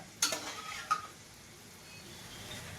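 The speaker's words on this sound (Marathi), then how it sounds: "असं चिकन घालायचं चालू आहे आता" A spoon scrapes and clinks twice against a pot as chicken is stirred into biryani masala, two sharp metallic knocks followed by a faint low simmer, with no talking.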